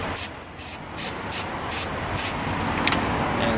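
Short hissing bursts of an electronic contact cleaner aerosol sprayed onto a car electrical connector, about six quick squirts in a row, close and sharp, followed by quieter background noise.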